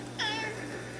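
A cat gives a single short meow, fairly faint and heard alone over a quiet indoor hum.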